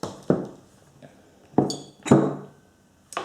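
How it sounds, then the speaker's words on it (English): Slyrs single malt whisky, a 43% German spirit, is handled and poured into a glass, giving several distinct clinks and taps of bottle against glass, close and clear, spaced out over a quiet background. "So let's pour myself a glass."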